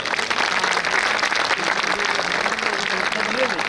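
An audience at a Hindu gathering applauds loudly and continuously, the clapping mixed with crowd voices and a low murmur throughout.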